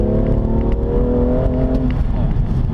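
A 2017 BMW M2 with an H-pattern manual gearbox pulls hard under full throttle, its engine note loud and close, droning steadily before easing off near the end.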